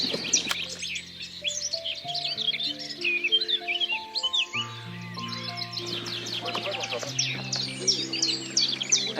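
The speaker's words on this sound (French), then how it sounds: "Un oiseau magnifique." A colourful bird calls and chirps repeatedly outdoors at a nature site in Ploufragan, with bright twittering notes over a soft musical background, fairly close and continuous.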